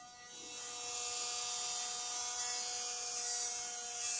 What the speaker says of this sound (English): the Ryobi's fan is really kicked it on. I'm hoping you can hear that.